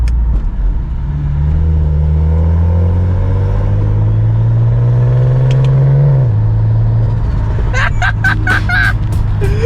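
A modified BMW car engine accelerates in a close, loud, steady pull that rises in pitch, then drops back, followed by a few sharp pops or crackles near the end.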